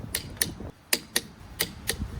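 A torque wrench clicks through its ratchet while tightening wheel lug nuts on a Volvo, giving six crisp, close metallic clicks in an irregular rhythm with short pauses between them.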